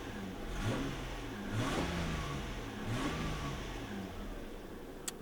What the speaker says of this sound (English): I'll give it a little rev before we do that, though.